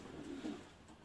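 A racing pigeon gives a single short, soft, low coo, faint and alone in a quiet space.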